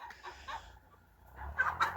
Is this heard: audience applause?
no